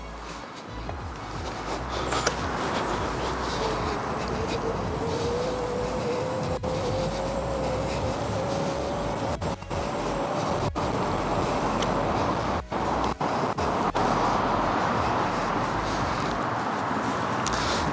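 A Segway Ninebot foldable electric scooter climbs a slope at maximum power, giving a steady motor whine that slowly rises in pitch over constant wind and road rumble.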